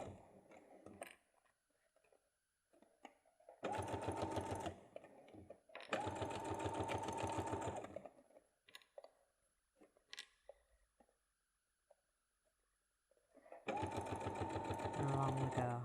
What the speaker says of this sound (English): Longer stitch length. And then a bit of a back stitch.